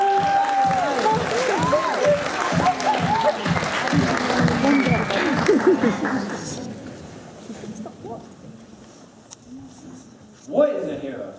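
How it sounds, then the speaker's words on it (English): An audience at a school speaking competition gives the next student speaker a round of applause and some cheering. The clapping is loud and dense at first, then thins out and fades away, and a brief noise near the end breaks the quiet. "please give a huge round of applause for Caven"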